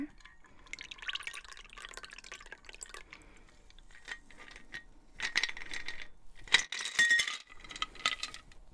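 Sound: pouring shaken cocktail into a glass

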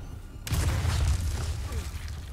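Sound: explosion in the video game Resident Evil 4 Remake

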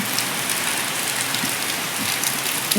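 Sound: heavy rain falling outside

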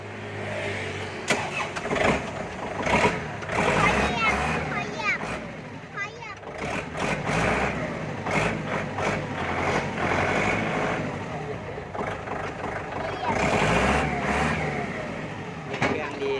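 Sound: L4708 tractor engine being started and running

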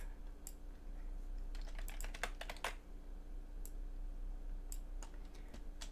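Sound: typing on Amstrad CPC computer keyboard

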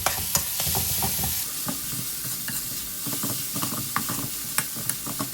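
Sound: stir-frying chilli and garlic in hot oil

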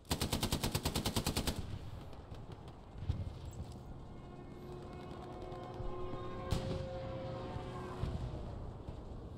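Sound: gunfire in the video game Hell Let Loose

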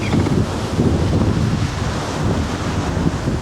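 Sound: strong wind

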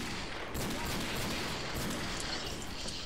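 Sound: Desert Eagle gunfire in the video game Left 4 Dead 2

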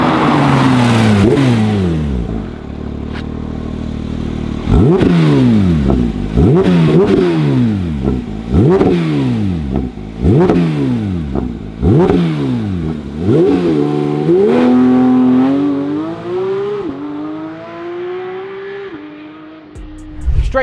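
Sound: Porsche GT3 992 Club Sport accelerating

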